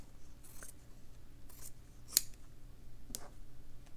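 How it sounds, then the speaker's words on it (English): Scissors snip through fabric strips for a ribbon flower, giving a few crisp, close cuts spaced apart in a quiet room, with one sharper snip standing out in the middle. "I'm going to just maybe cut it down just a little bit."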